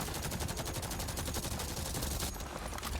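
Automatic gunfire in the video game Avatar: Frontiers of Pandora, a fast, evenly spaced rattle of shots lasting about two and a half seconds, loud and close, trailing into a brief noisy tail.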